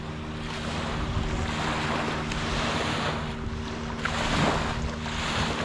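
Waves wash in at a dog beach on fairly calm water, a steady broadband surf hiss with some wind rumble on the microphone and low tonal hum, with no talking.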